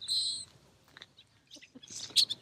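Blackbirds chirp in short, high bursts near railroad tracks in Watsonville, California, where bird seed lies scattered on the ground; one cluster of calls opens, scattered faint notes follow, and a brighter flurry comes at the end over a low rumble.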